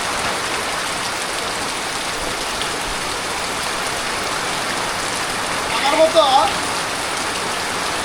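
Steady rain pours over a rural house with a bird shed, a dense, even patter on surfaces close around, while someone speaks briefly over it near the end.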